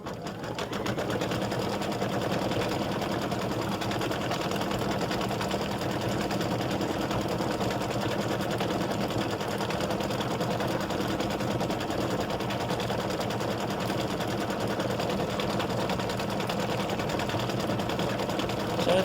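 An embroidery machine stitches a gnome's hat on an in-the-hoop Thanksgiving mug rug, its rapid mechanical whirring steady and uninterrupted throughout at moderate volume, with no talk.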